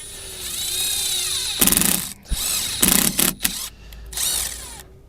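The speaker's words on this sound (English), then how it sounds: "using a self-tapping screw, I just drill a little hole right here in the bottom of the filter" Close, loud power drilling as a self-tapping screw bores a small hole in the bottom of an oil filter on a Bobcat E42 excavator, with several whirring bursts separated by short pauses and no talking.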